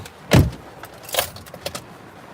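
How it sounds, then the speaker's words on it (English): Someone gets into a car, with a sharp door thud and key jangles followed by a few lighter clicks and rattles, close and fairly quiet, with no talking. "let me get in my car"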